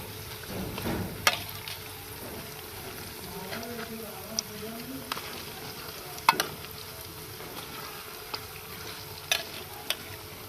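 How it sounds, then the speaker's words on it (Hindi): Pakoras frying on a low flame in a pan, a steady soft sizzle with occasional sharp clicks as they are turned, and a voice speaking quietly over it. "एक साइड से तो पक चुके हैं, तो दूसरी साइड से हम फ्राई कर लेंगे"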